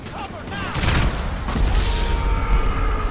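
Gunfire and explosive booms from the online video game GTA Online, a loud burst of shots and a crashing blast following each other closely, with a voice talking faintly in the background.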